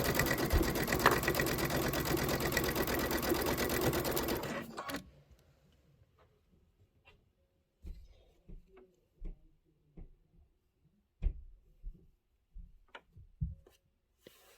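A sewing machine stitches quilt pinwheel blocks in a fast, steady whirring run for about four seconds, then stops, leaving quiet handling clicks and rustles of fabric.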